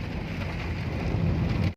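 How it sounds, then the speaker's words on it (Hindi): Steady rain falls on a car moving along a flooded Pakistani road, a dense, even wash of drumming and hiss that stays loud and unbroken throughout, with no voices. "इस वक्त जो बारिश है उसकी स्पीड स्लो हो चुकी है।"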